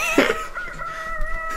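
Rooster crowing in the Billy Hatcher video game, a single strong tonal call with harmonic bands that starts loud and trails off over about a second and a half, heard alone with no talk.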